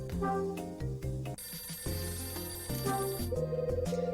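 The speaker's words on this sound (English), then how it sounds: "The phone's ringing." A telephone in the mystery adventure game Hotel Dusk: Room 215 rings in repeated electronic bursts, layered over steady in-game background music with no talking.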